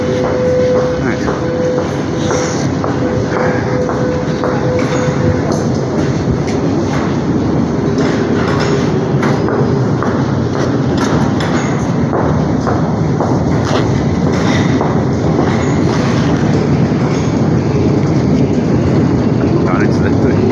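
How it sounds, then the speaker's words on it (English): A Saint Petersburg metro train running deep underground, a steady loud rumble and rattle of the carriages that continues throughout, with voices faint in the background. "Down into the depths of the metro."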